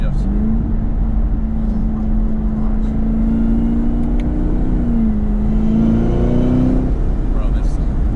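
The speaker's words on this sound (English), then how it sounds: "this thing freaking screams so much better" A Chevrolet Camaro ZL1 with a cold air intake drones steadily from inside the cabin, its supercharger whine rising and falling in pitch as the engine revs, with someone talking over it.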